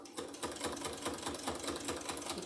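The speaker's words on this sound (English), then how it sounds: "I'm using a straight stitch, and I'm using my walking foot because there's quite a bit of bulk here." Sewing machine running a straight stitch with a walking foot through bulky quilt layers to attach bias tape binding, a rapid, even mechanical chatter of needle strokes at close range, with no talk.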